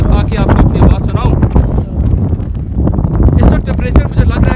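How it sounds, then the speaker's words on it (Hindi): Strong, cold wind on a high mountain pass near glaciers in Gilgit-Baltistan buffets the microphone in loud, gusting rushes. A voice talks through it the whole time. "इस वक्त इतनी तेज़ हवा है"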